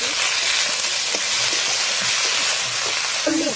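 Flat beans and eggplant frying in about two tablespoons of hot oil with chopped onion and garlic, a steady, loud, unbroken sizzle up close, with faint stirring knocks under it.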